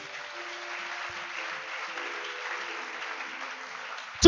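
A church congregation applauds, a steady, even wash of clapping held for several seconds without a break.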